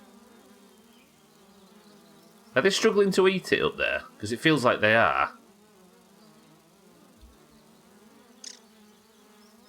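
Gnats drone around rotten meat in the video game Grounded, a thin, steady buzz that runs through the whole stretch, while a person talks over it for a few seconds in the middle.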